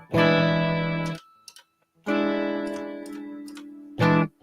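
Electric guitar notes played through a delay effect pedal during a live lesson, two sustained chords each ringing out with echoing repeats and brief clicks between them, close and clear with no talking.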